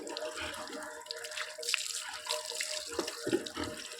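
Water is poured over a pet named Dodo during a bath, giving a continuous close splashing and trickling with a few louder splashes.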